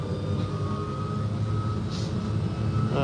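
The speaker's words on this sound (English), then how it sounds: "One pull. I love that blower." A running gas leaf blower drones steadily and loud throughout, a constant roaring whine with a low engine rumble underneath and no pauses.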